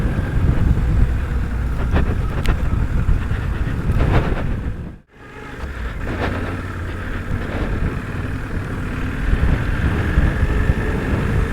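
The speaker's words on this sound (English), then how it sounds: "Riding this bike off-road, gravel track and a path is stunning." A Suzuki V-Strom DL800DE adventure motorcycle rides off-road along a gravel track, its engine drone buried under heavy, loud wind buffeting on the microphone with a brief dropout midway.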